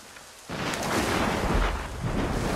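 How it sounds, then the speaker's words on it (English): A thunderstorm in Assassin's Creed Rogue breaks in with a sudden loud thunderclap that swells into a long, deep rolling rumble over steady rain hiss, with no voices. "The storm's getting worse."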